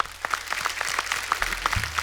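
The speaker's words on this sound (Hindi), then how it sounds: "ओपी नैयर साहब के लिए जोरदार ताली" An audience on a TV show applauds for O. P. Nayyar, a steady patter of many hands clapping throughout, moderately loud and fairly close.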